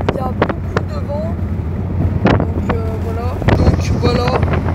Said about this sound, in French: là, il y a beaucoup de vent